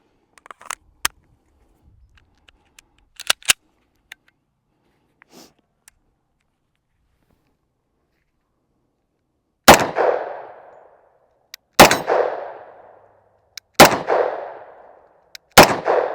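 A Taurus TH10 10mm pistol fires four loud, sharp shots at roughly two-second intervals, each with a short echoing decay, after a stretch of quiet handling clicks and rustles.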